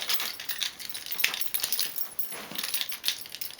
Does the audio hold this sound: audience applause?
no